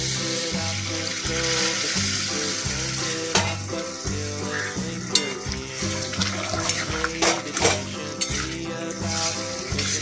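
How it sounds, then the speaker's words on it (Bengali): Hot water hits a hot pan on a switched-off gas stove, throwing up a bubbling sizzle with clinks of utensils over a steady, humming tonal drone that runs throughout. "এবার আমি গরম জলটা দিয়ে দিচ্ছি।"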